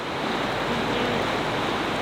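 A river rushes in a steady, loud, broadband wash of water, continuous and close, with no voices over it.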